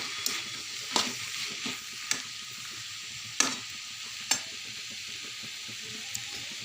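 Vegetables fry in a pan while a spatula stirs them, giving a handful of sharp scraping clicks and knocks over a steady, soft sizzle, with no talking.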